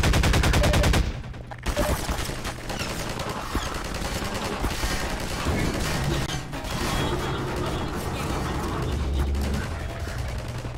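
Rapid gunfire bursts and crashing impacts from Half-Life 2, loud and nearly continuous, layered with busy game action and a dense noisy wash throughout.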